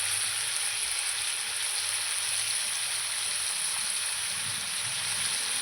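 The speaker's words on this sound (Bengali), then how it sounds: "মাংসটা একটু আমি ভেজে নেব একটু হলুদ দেব" Meat fries in hot oil with turmeric, a dense, even sizzle that stays close and steady throughout with no voices.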